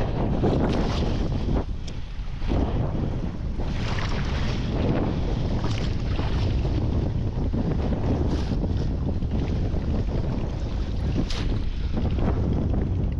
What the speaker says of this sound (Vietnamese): Gió quá đẩy lên bờ luôn rồi.